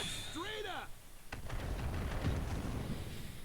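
Meteor spell bombardment in the strategy game Langrisser Mobile: after a quick descending whistle, a sharp blast strikes, followed by low rumbling impacts that keep booming and churning, moderately loud.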